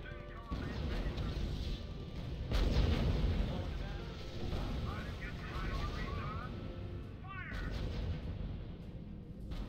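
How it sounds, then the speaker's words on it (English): Sustained gunfire on a unit in the strategy game R.U.S.E., a dense continuous clatter of shots and blasts with heavier bursts mixed in. Game voices and effects sit in the background throughout. "Unit under sustained fire."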